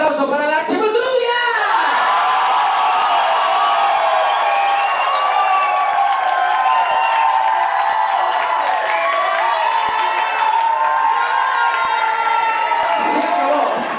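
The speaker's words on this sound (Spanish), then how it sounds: "Vámonos con el primer aplauso para la Chimoturubia." A drag show audience in a nightclub erupts in loud, sustained cheering, whooping and applause, a dense crowd roar that persists throughout, with shouts standing out early on.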